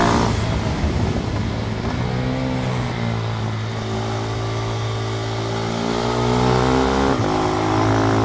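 A KTM Duke 390 single-cylinder motorcycle on Dunlop Sportsmart TT tyres ridden fast, its engine droning loud and close with rising revs and rumbling acceleration, wind noise mixed in.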